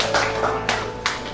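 A church congregation standing for worship claps hesitantly: a few sparse, uneven hand claps spaced apart, with room hum and no voices.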